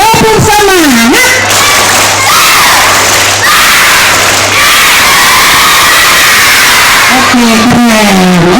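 Schoolchildren at a primary school's new-year gathering shout and cheer loudly in unison during a clapping chant, with an adult voice leading at the start and end over the continuous crowd noise.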